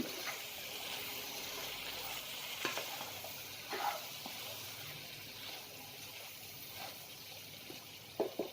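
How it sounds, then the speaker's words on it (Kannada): Soya bean chicken dry is stirred with a spatula in a pan after the stove is switched off, a soft continuous scraping with a faint lingering sizzle and a few light clacks, fairly close and quiet. "ನಾನು ಆಫ್ ಮಾಡಿ ತಿರುಗಿಸ್ತಾ ಇದ್ದೀನಿ."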